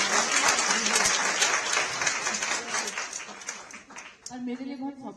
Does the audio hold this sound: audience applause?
yes